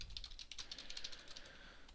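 Rapid, fairly quiet typing on a computer keyboard, with a steady run of light key clicks in an even rhythm.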